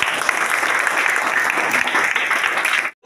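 Students at a school National Science Day event applaud steadily for about three seconds in a dense, loud burst of many hands, which stops abruptly.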